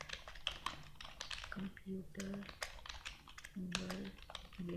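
Keys clatter in quick irregular bursts while a computer title is typed during a web design lesson, close and fairly soft, with someone speaking over much of the typing.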